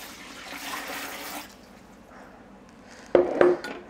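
Homemade chicken broth is poured into jars, a soft splashing stream of liquid that tapers off, followed by two sharp glass clinks close by.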